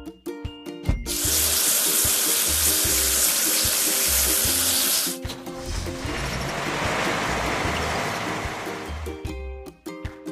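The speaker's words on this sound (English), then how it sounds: "Now we need to wash it clean." Water sprays hard to wash timber clean in a kids' video game, a bright rushing gush for several seconds then a softer flowing spray, all over a repeating cheerful music loop.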